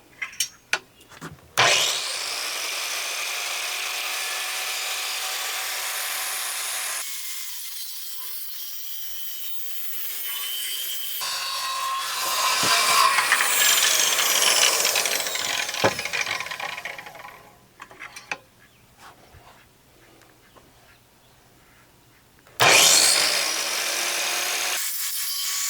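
A sawmill cuts timber frame knee braces, with loud sustained saw roars broken by pauses, clunks and lighter scraping of wood, then a final burst of cutting near the end.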